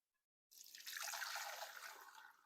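Leftover BBQ stock, with bits of meat and bone, is poured through a strainer, giving a steady splashing, trickling pour that starts abruptly after a short silence, then gradually tapers off.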